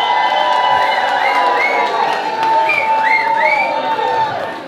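A nightclub crowd at a London live show cheers, whoops and applauds a performer, loud and sustained, with scattered shouts and whistles over a continuous roar.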